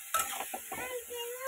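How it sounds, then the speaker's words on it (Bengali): Vegetables frying in a pan with turmeric, stirred now and then: a close, soft sizzle running throughout, broken by intermittent scraping and clinking strokes of a utensil against the pan. "দিয়ে দেবো হলুদ যতটুকু লাগবে, এটাকে ভাজতে দেবো।"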